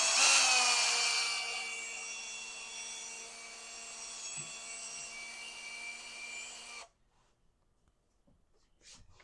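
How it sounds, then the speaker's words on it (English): A small 1/16 drill bit bores into a Chevy oil pump gear with a steady, high-pitched whine that starts loud, settles into a sustained tone, then cuts off abruptly, leaving near silence. "I am drilling some very small 1/16 holes in this oil pump gear"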